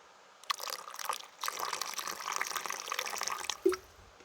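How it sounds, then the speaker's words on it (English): Cold water splashes and trickles steadily into coffee for a few seconds, a close pouring sound with a small clink near the end. "by adding just a splash of cold water, it'll push most of the grinds down to the bottom"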